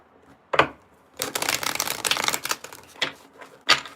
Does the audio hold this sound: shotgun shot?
no